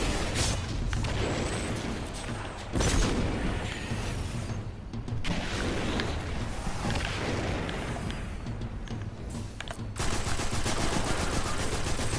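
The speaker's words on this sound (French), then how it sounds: "cette grenade en vrai elle est ultra puissante." A grenade going off in the sci-fi shooter Destiny 2, a loud burst amid constant heavy gunfire and blasts that fill the whole stretch.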